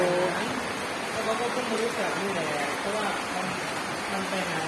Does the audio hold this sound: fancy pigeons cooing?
no